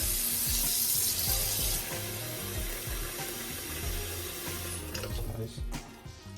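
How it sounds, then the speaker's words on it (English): Tap water runs steadily into a kitchen basin as chicken is prepared for a Jamaican brown stew, a continuous hissing gush with faint clinks and handling sounds and a change in tone near the end. "I'm just going to add some water in my basin."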